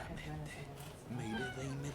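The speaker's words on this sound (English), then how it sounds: "I don't know if you can hear the meowing in the background." A house cat meows repeatedly in the background, a couple of drawn-out mewing calls sitting under ongoing speech and game audio.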